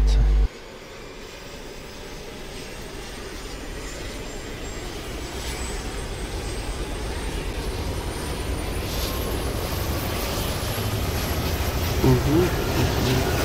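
In the video game ArmA 2, a helicopter engine starts up, a low turbine rumble and rising whine that slowly swells and grows louder over several seconds, with faint voices near the end.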